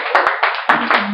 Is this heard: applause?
yes